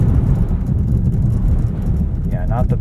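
2023 Cadillac XT4 Premium Luxury AWD pulling away hard from a stop on highway touring tires in snow, a steady low engine and road rumble heard from inside the cabin, with a voice speaking near the end.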